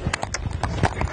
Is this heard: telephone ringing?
no